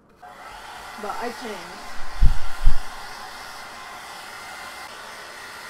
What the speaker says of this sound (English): This hair blower, it's not hot enough to, like, ruin my hair right now